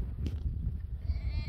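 Sheep and small lambs in a flock give a short, faint bleat close by, set against low rustling outdoor background noise.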